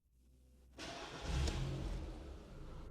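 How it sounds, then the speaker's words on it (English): A car engine with a 4-speed AG4 (01M) automatic transmission cranks and catches, revving up briefly before settling into a steady, close idle. "Now start the engine."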